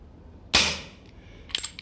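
A single sharp, snappy shot from a Remington 1875 air pistol firing 4.5mm Crosman Destroyer EX pellets cracks out close by, followed a second later by a quick cluster of metallic clicks and ticks.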